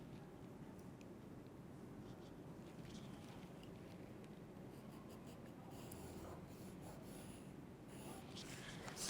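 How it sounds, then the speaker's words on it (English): A pencil or marker scratches along paper, drawing a new armhole line on a draped pattern, faint soft strokes in short bursts against a quiet room hiss. "Then we draw the new armhole"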